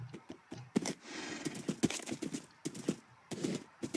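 Horse hooves clopping in Minecraft as the horse jumps a fence, a quick run of sharp, evenly spaced clicky thuds up close with no talk over them.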